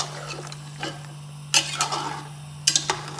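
Metal spoon clinking and scraping against a pot while mutton and spices are stirred together, a few sharp knocks at intervals over a steady low hum, close and moderately loud.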